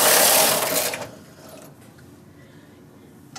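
A domestic knitting machine carriage is pushed across a row, with a loud, dense whirring rush for about a second, then fading to quiet background.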